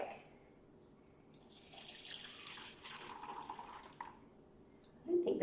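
Liquid from homemade plant-based nut milk pours and trickles through a nut milk bag, a soft splashing stream building for several seconds before a louder clatter at the end, with no talking.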